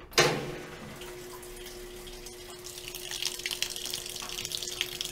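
A Maytag top-load washer with weak water flow fills its tub: a thin, steady stream of rushing water starts abruptly with a click and runs continuously, growing slightly louder toward the end.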